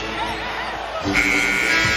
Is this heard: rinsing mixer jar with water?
no